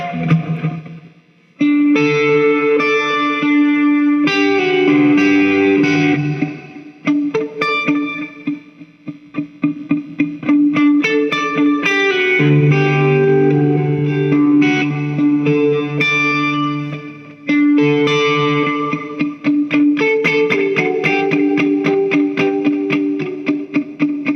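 A KGD KRT relic Tele-style electric guitar plays chords and single notes drenched in reverb and echoing delay, ringing tails trailing after each strum, loud and up close.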